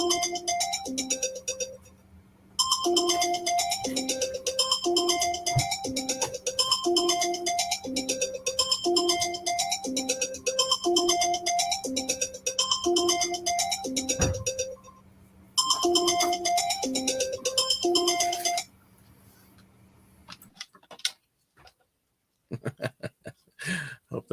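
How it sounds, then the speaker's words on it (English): A phone ringtone plays as a loud, repeating melodic electronic tune in steady bursts with a short gap, then cuts off, leaving faint room noise and a few soft sounds. "Phone's ringing."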